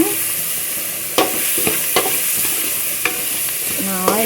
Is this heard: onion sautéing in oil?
yes